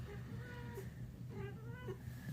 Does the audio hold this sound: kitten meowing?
yes